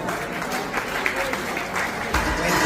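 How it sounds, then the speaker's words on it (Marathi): An audience at a community awards ceremony applauds to welcome a recipient being honoured, with steady broadband clapping that holds throughout and swells slightly toward the end, with no one speaking over it. "माननीय श्री निलेश दत्तीलाल पवार सर टाळ्या स्वागत करा"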